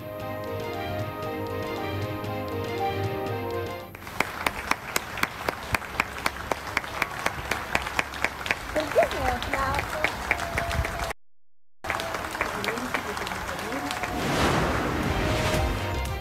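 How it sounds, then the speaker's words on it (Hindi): Applause from people standing on balconies for health workers fighting coronavirus: many sharp, regular claps following an opening stretch of music, with a busy background throughout. "बालकनियों में खड़े होकर तालियां बजाएं।"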